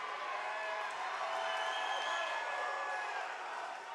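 A crowd at a fight cheering and roaring in a broad, steady wash of excited noise, sustained and somewhat distant, with no voice standing out.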